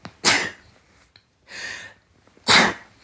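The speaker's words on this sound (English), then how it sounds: "I just said I don't want to sneeze and then I sneezed." Three sharp human sneezes at close range indoors, the first and last loud and explosive, the middle one softer, separated by quiet breaths.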